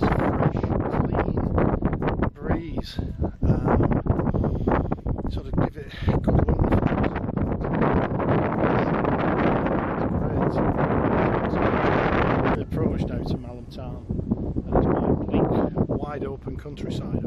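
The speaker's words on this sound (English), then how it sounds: "It's windy, but it's a very nice, fresh, clean breeze." Gusty wind roars across the microphone in loud bursts on open countryside near Malham, North Yorkshire, with a person talking intermittently underneath the buffeting.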